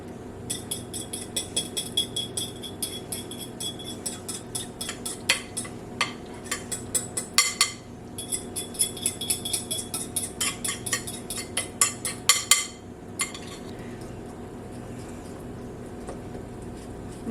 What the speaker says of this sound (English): Give a good whisk.